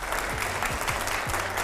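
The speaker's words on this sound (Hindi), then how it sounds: "जरा जोरदार तालियां हो प्लीज" A crowd at a televised Indian political Q&A session with Priyanka Chaturvedi breaks into steady applause. The clapping is dense and continuous across the short stretch, with a few louder low thumps mixed in.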